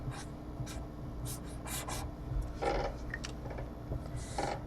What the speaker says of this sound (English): So I'm going to write this number, comma 0.